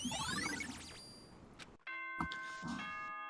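Announcement chime from the video game Danganronpa, a bright sequence of bell-like electronic tones: sweeping ringing notes first, a short gap, then a sustained chord with clicks, heard loud and clear.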